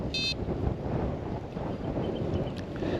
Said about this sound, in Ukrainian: Такий вітер достатньо сильний